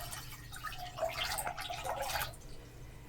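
White vinegar poured into a pot of water for pickle brine, a faint steady trickling and splashing pour lasting a couple of seconds, close by with no talk.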